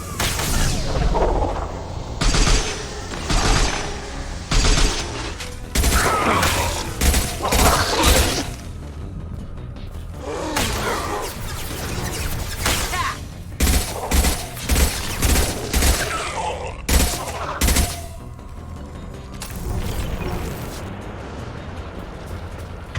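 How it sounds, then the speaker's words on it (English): Heavy gunfire in the Mass Effect video game: dense bursts of shots and booming blasts come in clustered volleys with short lulls between, loud and close, with little or no speech. "Heavy fire imminent."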